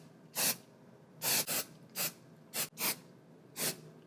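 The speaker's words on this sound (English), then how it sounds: "We're gonna go on ahead and spray it." Apple Garde protector spray misted onto a Louis Vuitton bag's Vachetta leather trim, heard as six short, close hissing bursts of aerosol spaced irregularly apart, with quiet room tone between them and no talking.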